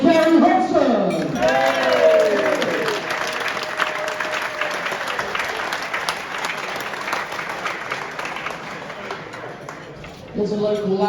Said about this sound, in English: A round of applause for Gary Hodgson!